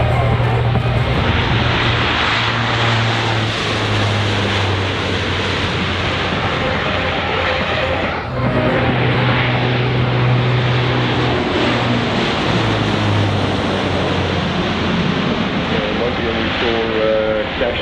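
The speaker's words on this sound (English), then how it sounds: "Dash 2 or the second aircraft there getting airborne." A military aircraft taking off at Avalon Airshow, its loud engine roar droning steadily and swelling throughout, with a second jet getting airborne partway through.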